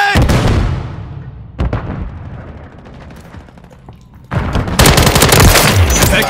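Dense gunfire from Call of Duty: Modern Warfare, with sustained machine-gun bursts and explosions that thin out mid-way and then return in a loud, heavy barrage.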